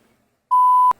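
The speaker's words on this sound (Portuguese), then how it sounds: "Telefone ocupado" A steady electronic tone from the telephone busy signal in Pink Floyd's Comfortably Numb sounds alone for about half a second, cut off by a sharp click.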